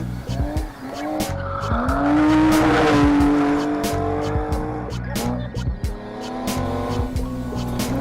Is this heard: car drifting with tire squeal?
yes